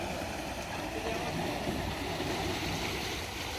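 Flood water runs steadily past a sluice gate at Kumarchok during a flood in Ghatal, giving a continuous broadband rushing and gurgling wash that stays even and fairly close throughout, with no clear voices.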